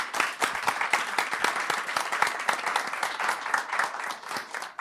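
Steady, dense applause from a seated audience at the Women in Agrifood Summit 2023 honors mentee Michaela Sipos, many hands clapping quickly and evenly at moderate volume for several seconds without pause.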